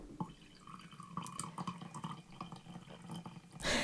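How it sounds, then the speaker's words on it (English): Coffee pouring into a cup, a steady close liquid trickle with small splashes lasting a few seconds, ending in a louder burst of noise. "I'm like pouring coffee."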